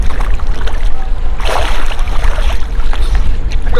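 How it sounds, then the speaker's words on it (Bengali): A trawler moves along river water, its low engine rumble blending with a loud rushing wash of water and wind gusts, close and continuous with a surge of splashing midway. "এই যে ট্রলার যাচ্ছে"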